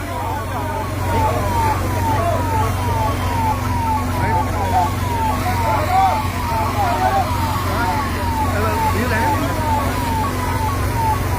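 A fire engine siren wails in rapid repeating sweeps, steady and fairly loud over a low engine rumble, with faint voices in the background, at a car fire in a parking lot in Kotkapura.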